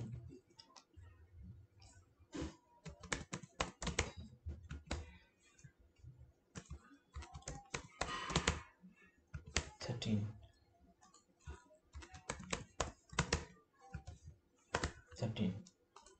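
Rapid clicks from a computer keyboard as a password is entered, coming in quick irregular bursts with short pauses, close and moderately quiet, with faint low talk underneath.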